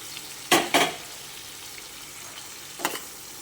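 Tinda (round gourd) pieces are stirred through a tempering in a frying pan, giving two quick scraping sweeps early on and a third a little later over a soft, steady sizzle.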